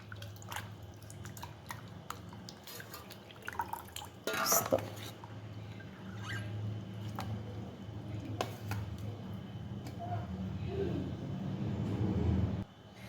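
Potato slices being washed in a bowl of fresh water to rinse off the starch for homemade wafers, soft close dripping and sloshing with a louder splash midway, as someone talks over it.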